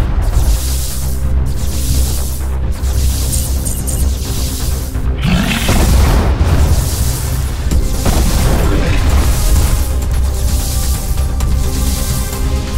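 Missile launches and explosions in the mech-building game MASS Builder, heavy booming blasts and roaring rumble repeating steadily throughout, loud and dense, with a voice talking over parts.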